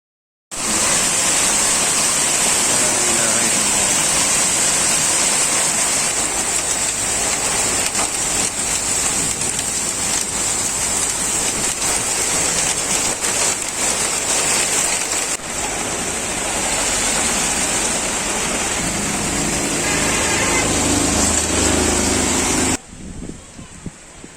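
Heavy rain driven by strong wind pours down in a dense, steady roar that holds loud and unbroken for over twenty seconds, then cuts off abruptly near the end.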